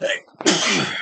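A single sharp sneeze bursts out near the middle after a brief spoken word, loud and close, trailing off into a breathy release.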